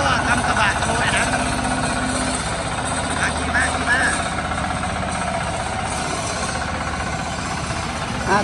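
A farm tractor engine idles with a steady, rough low chugging that continues the whole time, while people talk nearby over it.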